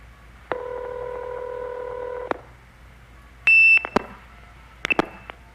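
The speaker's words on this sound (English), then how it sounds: "So that kerchink, which is music to any phone freak's heart, is the 2600 hertz being removed and then applied." Phone-line tones from the 1960s–70s phreaking era: a steady multi-tone signal holds for about two seconds, then a short pause, then sharp high beeps and clicks that form the 2600 Hz kerchink as a blue box seizes the trunk.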